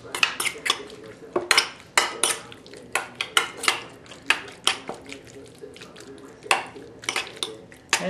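Beef is mixed with hoisin sauce and black pepper in a bowl, heard as a close run of quick clinks and taps of a utensil against the dish, irregular and fairly loud, with no talk.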